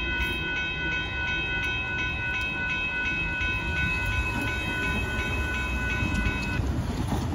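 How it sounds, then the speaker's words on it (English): A southbound Amtrak Texas Eagle and a northbound Union Pacific mixed freight roll past nearby with a steady heavy rumble of rail cars, a sustained horn tone running through most of it. "there goes the southbound Amtrak and the Union Pacific mixed break on by"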